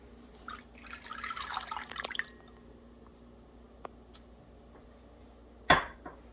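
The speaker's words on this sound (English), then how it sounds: "And then we are going to add our evaporated milk." Evaporated milk glugs and splashes as it is poured into a bowl of pumpkin pie mix for a pumpkin dump cake, a soft, near liquid pour lasting about two seconds, followed by quiet room noise and a sharp clink near the end.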